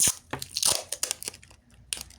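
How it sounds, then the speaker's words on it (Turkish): Packing tape is pulled and stuck while building a large Stitch Labubu squishy, giving close, crackly tearing and crinkling bursts in an irregular rhythm with short quiet gaps. "Şimdi bantlama işlemine geçtik."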